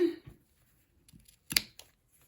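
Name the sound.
scissors snipping ric rac trim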